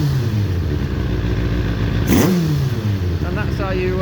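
A 2000 Kawasaki ZX6R motorcycle engine running during carburetor balancing, a steady idle that rises in a brief sharp rev midway and then settles back, heard up close with someone talking over it.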